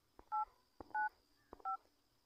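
Phone keypad dialing tones, three short beeps spaced evenly apart, each with a soft tap before it, heard alone and fairly quiet.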